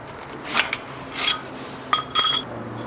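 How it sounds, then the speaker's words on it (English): A castle nut on a CV axle hub is loosened by hand in a few short, separate bursts of metallic scraping and ratcheting. The sounds are close, with quiet gaps between them. "Now I'll loosen the castle nut."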